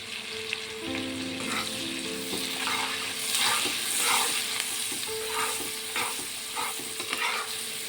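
Cumin seeds sizzle in hot oil for an egg, tomato and lentil curry: a loud, close crackle with rhythmic stirring scrapes, over faint background music.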